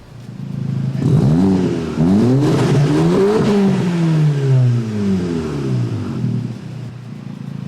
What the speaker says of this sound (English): I haven't heard this exhaust yet, so I think it sounds good.